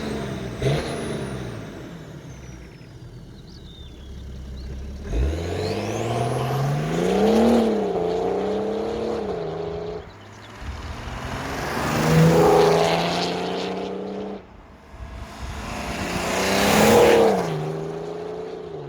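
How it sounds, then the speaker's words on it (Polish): A 2008 BMW E91 335d diesel engine tuned to 472 hp revs up in three strong swells, each rising and falling back, loud and close with no talking. "dźwięk silnika jest normalny"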